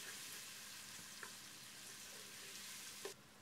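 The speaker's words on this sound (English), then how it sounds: "Fry till the onions are translucent." Diced red onions sizzling steadily in hot mustard oil inside a pressure cooker, a soft continuous frying hiss with a few faint clicks of stirring, alone and close.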